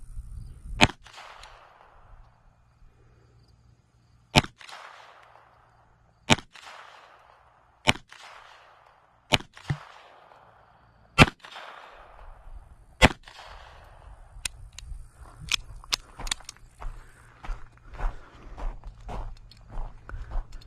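Beretta Tomcat .32 ACP pistol fired at a target about 12 yards away, with sharp single shots spaced a second or two apart, each followed by a short ringing decay, then a quicker run of lighter clicks and knocks near the end.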